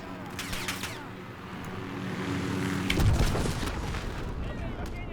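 Helicopter shot down in Modern Warfare 2: dense game combat with a steady rotor-like low drone, gunfire bursts and a loud boom near the three-second mark, then continued rumble.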